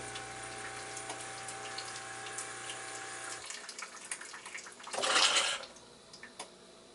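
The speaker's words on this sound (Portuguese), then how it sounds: "Eu solto uma dose pequena de água, como se eu fosse fazer um café pequeno, só para ele se limpar" A home coffee machine pushes a small dose of water through its spout and filter to clean itself, giving a steady pump hum with trickling water that cuts off, then a brief louder gurgling splash and a few drips.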